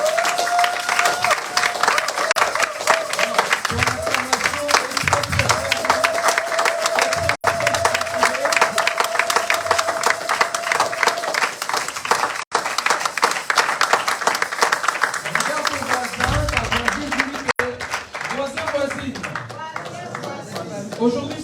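A church congregation applauds and cheers to acclaim the Lord, dense continuous clapping and voices filling the room for a sustained stretch, with a sung tone and shouts rising from the crowd.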